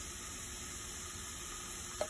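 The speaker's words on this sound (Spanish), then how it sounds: "Voy a mezclar un poquito y voy a freír de 3 a 5 minutos." Vegetables with tomato and squash frying in a pan, a steady soft sizzle throughout with a brief stirring scrape near the end, no talking.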